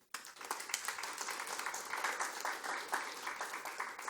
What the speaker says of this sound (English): I want a round of applause for police force